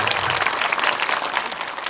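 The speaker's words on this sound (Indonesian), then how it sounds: "Tepuk tangan untuk kita semuanya, luar biasa." An audience claps in a fairly soft, dense burst of applause that lasts about two seconds, steady and even, with no voices over it.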